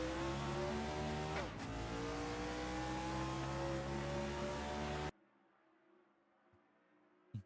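Several race cars drone together at the rolling start of a Talladega oval race in a racing game, a loud steady engine roar with a brief dip before it cuts off to near silence and a soft click.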